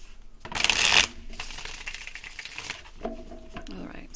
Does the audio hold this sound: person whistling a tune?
no